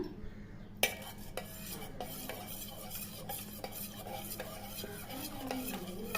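A spoon scraping and stirring as a rice flour batter gets mixed with chillies, curry leaves, cumin and spices, making soft repeated strokes against the bowl, fairly quiet and near with no speech.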